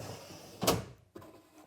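A cabinet drawer on Blum Tandem glides slides back in, a short rolling slide that ends in a soft knock, followed by a second, smaller bump, all at close range.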